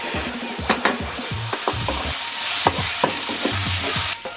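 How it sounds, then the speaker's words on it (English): Red peppers and onions sizzle in a frying pan as chilli and garlic go in, with a steady close fry broken by sharp clicks and scrapes of stirring throughout. "the red peppers and the onions have been frying for about 10 minutes"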